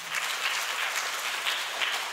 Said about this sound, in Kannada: ಬರಲಿ ಒಂದು ಚಪ್ಪಾಳೆ